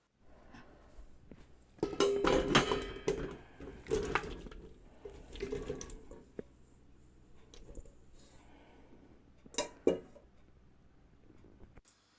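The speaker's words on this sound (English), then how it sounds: "I'm going to start by popping these tomatoes in the pan now." Chopped tomatoes being dropped into a preserving pan on the stove, a cluster of close wet thuds and clatters followed by a quieter stretch, then another short burst of clanks.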